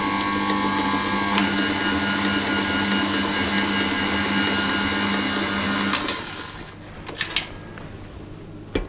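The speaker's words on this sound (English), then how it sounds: "Give it a little bit more of a whisk." Blackberry and lemon cheesecake mixture being whisked, heard as a steady, close mechanical whirr and churn that runs for about six seconds. It then stops, leaving a few light knocks and clatters.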